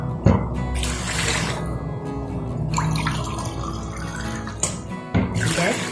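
Water runs and splashes steadily into a pot, 2.5 cups for rava kichadi, with drips and a few clatters near the end.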